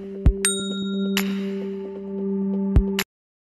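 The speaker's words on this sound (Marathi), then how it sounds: "बेल आयकॉनला क्लिक" A bright bell-icon ding sound effect chimes twice near the start, ringing briefly over a steady low electronic hum that continues until it cuts off.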